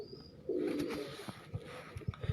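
Teddy pigeons give a short, low cooing call, faint and close, followed by a few soft taps and rustles.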